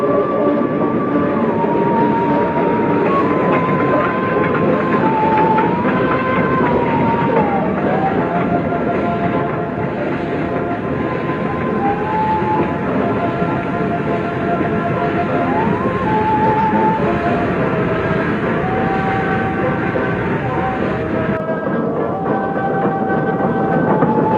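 A train hauled by an E10 class electric locomotive in Indonesia in 1973 rumbles steadily along the rails, with continuous mechanical drone and shifting whining tones throughout, no voices.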